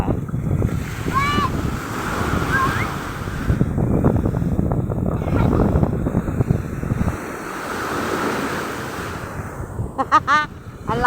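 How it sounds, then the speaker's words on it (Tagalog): Big ocean surf breaking on a beach, a steady broad wash of waves with wind buffeting the microphone, while people talk and call out nearby over the noise. "Ang laki ng alon."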